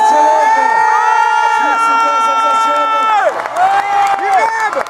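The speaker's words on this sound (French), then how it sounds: "Merci d'applaudir, mesdames, messieurs." A crowd cheers and applauds loudly for rally driver Sébastien Loeb as he steps out of his car, with sustained tonal voices or music ringing over the din throughout.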